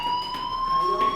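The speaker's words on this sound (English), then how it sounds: "Hey, do you hear that fire alarm?" A fire alarm from the Life Is Strange video game rings with a sustained, shrill electronic tone, loud and unbroken across the brief moment, with no talking.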